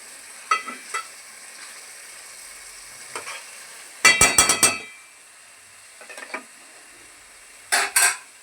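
Raw fish pieces coated with salt, chili powder and ginger being mixed by hand in a bowl, giving soft wet squelching and a few clinks against the dish in short separated bursts, close up with no talking.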